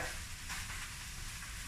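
Spinach hits a hot pan of frying onion and bacon and sizzles loudly. The crackling frying noise is broad, steady and continuous, with no voices.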